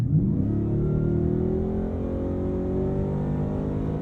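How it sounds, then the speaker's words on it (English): A Ford F-150 Raptor R pickup's engine roars hard and climbs in pitch as it accelerates in auto mode with the 10-speed downshifting, the exhaust droning loudly and steadily close by. "When you put your foot down in auto mode"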